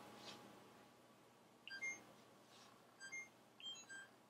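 Oven timer beeping in short, faint electronic tones while being set for 25 minutes in a quiet kitchen, in three small clusters of beeps.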